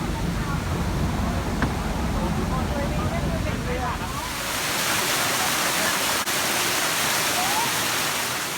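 Steady roar of the waterfall at Bang Hoi, Khao Sok, Surat Thani, a dense continuous white-noise rush that persists throughout, with faint voices mixed in the first half.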